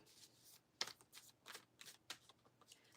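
A deck of playing cards is shuffled at close range during a spiritual arts live stream, giving a series of crisp riffling bursts and soft flutters with short pauses between them.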